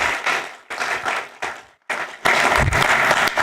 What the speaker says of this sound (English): I really think you deserve another round of applause.